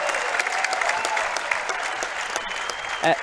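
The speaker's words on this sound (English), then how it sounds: "standing ovation going on now around championship court here" A pickleball championship court crowd gives a standing ovation, steady sustained applause filling the arena at mid distance, with brief voices mixed in.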